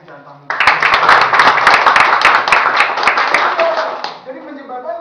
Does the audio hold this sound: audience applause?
yes